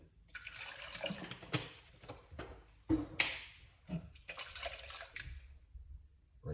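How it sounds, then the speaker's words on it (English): Water splashes and sloshes in irregular bursts as a container is rinsed, with sharp clunks in between. "rinse out with a little bit of water"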